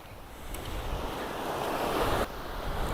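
Wind blowing on a fishing pier by the sea, a broad steady rush mixed with surf wash that swells slightly before dropping back near the end, no talking.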